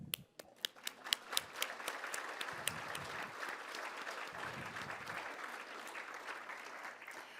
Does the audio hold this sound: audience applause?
yes